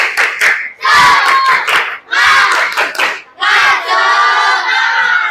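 A class of children in a classroom shout a rhythmic Indonesian spirit-clap chant, "tepuk semangat," in bursts, with loud voices and clapping mixed together, close and energetic.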